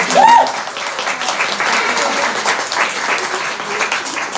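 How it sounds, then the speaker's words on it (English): Audience applause for a guest at an afternoon talk event, a steady, fairly loud wash of clapping from a room of people with a brief tone near the start. "Please can we have a massive round of applause for Lisa Byrne."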